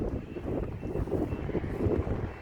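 Wind gusting steadily across an outdoor rooftop solar-panel installation, a continuous low rushing buffet on the microphone that swells and eases without pause and with no voices.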